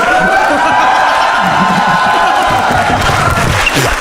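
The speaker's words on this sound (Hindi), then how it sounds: "अच्छा चिराग भाई के लिए ताली बजाएंगे" An audience applauds and cheers for Chirag, a dense, steady wash of clapping and crowd noise that holds at full loudness for the whole stretch.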